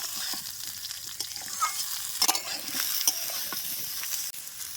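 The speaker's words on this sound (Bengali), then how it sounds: "হালকা আছে সুন্দর করে নেড়ে নেব" Mango pickle, a sour-spicy achar with special spices, stirred in a pan: continuous soft scraping and light sizzle, with a few sharper clinks of the spoon near the middle and no voices.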